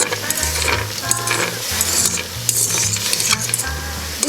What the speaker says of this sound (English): With peanuts, you just have to mix with the fork